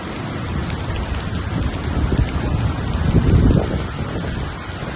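Heavy rain pours steadily and loudly over Barcelona's flooded El Prat airport, a dense hiss of drops pounding surfaces, swelling slightly midway with no voices.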